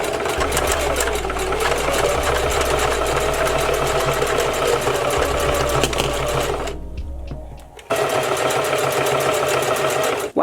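A sewing machine stitches hair weft tracks in a loud, steady, rapid needle rhythm close by. It pauses briefly near the end, then runs again.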